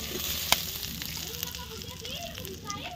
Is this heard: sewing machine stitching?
no